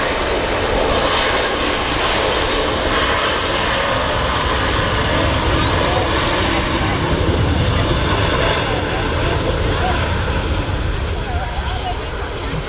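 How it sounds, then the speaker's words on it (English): An airliner touching down and rolling out on the runway makes a steady, dense engine and reverse-thrust rumble that stays loud and even throughout, with faint background chatter. "Lovely touchdown there. Very smooth."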